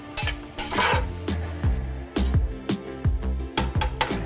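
Shrimp stirred and folded in a pan over very low heat, a rhythmic series of utensil scrapes and taps on the pan over a soft sizzle, close with no talk.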